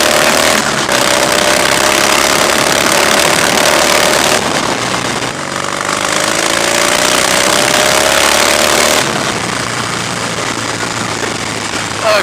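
A 2015 Harley-Davidson Softail Breakout cruises at road speed, its engine giving a loud, continuous rumble mixed with heavy wind roar, with gear changes and throttle shifts breaking up the steady drone.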